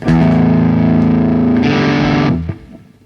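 An electric guitar runs through the red channel of a Marshall-style preamp with the gain raised, giving a heavy, saturated fuzz. A held, droning riff plays loud and close, then cuts off and decays into a short ringing tail.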